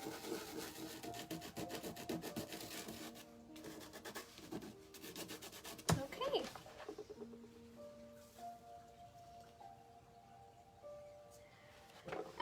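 Salt crystals rubbed off a watercolor painting by hand, a steady dry scratchy rubbing that runs for several seconds and then fades to quieter scraping with faint background tones.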